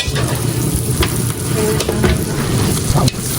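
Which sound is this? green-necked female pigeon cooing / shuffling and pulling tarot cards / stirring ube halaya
stirring ube halaya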